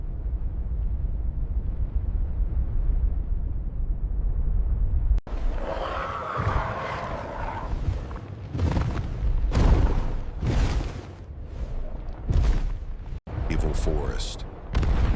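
A prehistoric cataclysm of volcanic eruptions: a low rumbling bed gives way to a series of heavy booming blasts, loud and close, with sharp bursts repeating over several seconds.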